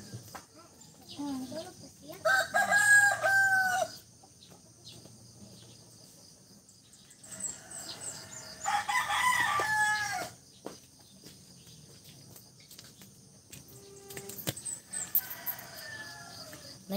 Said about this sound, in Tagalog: May manok nakabuhi.